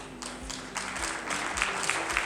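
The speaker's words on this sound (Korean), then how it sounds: "박수" Audience applause at a Korean book launch event, scattered clapping with rhythmic bursts repeating through a couple of seconds, moderate in level over a low background hum.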